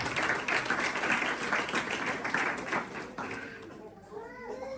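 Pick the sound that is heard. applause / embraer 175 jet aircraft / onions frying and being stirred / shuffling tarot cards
applause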